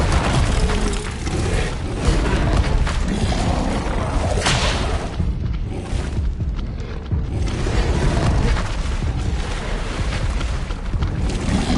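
The Incendio fire spell in Hogwarts Legacy roars as a dense, continuous loud blaze of fiery whooshes and rumbling bursts, with no pauses throughout.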